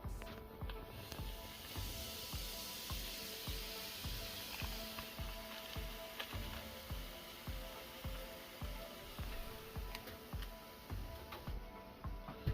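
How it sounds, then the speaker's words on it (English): A packet of curry frying in hot oil, giving a steady faint sizzle with rhythmic scraping or stirring ticks repeating throughout. "Now I'm going to add the beta pack of curry into the oil."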